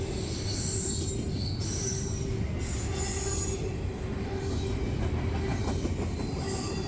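A GE ET44AC Tier 4 locomotive pulls a freight train past on a mainline, its steady loud rumble continuous, with metallic wheel squeal and some rail clatter riding over it.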